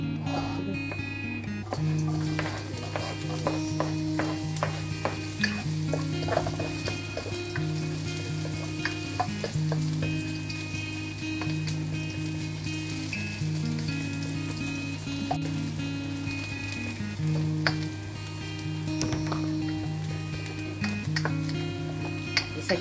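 Winged beans and peanuts fry in a home pan with a steady loud sizzle, while a spatula stirs and scrapes against the metal in repeated clinks. A low hum runs underneath.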